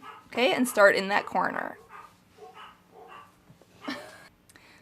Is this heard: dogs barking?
yes